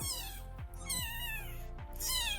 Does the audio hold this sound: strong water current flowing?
no